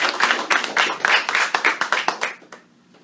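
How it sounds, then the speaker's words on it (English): A crowd at a Broward College event claps for Christopher Warning, a Democrat candidate for Broward County Commissioner, District 4, with steady, fairly loud applause that fades out near the end. "Give him a round of applause."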